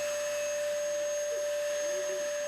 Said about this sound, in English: As the vacuum cleaner roars to life